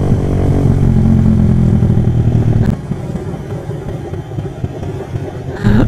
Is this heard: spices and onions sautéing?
no